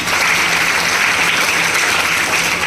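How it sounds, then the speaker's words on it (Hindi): Dense, steady applause from a ceremony audience honouring students at a girls' felicitation event, a continuous loud wash of many hands clapping without pause. "TC तिवारी जी, उनके लिए भी जोरदार तालियां"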